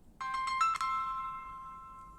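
A phone ringtone plays a few rising electronic notes and then holds a steady tone that fades slowly. It sounds close and clear, with no voices.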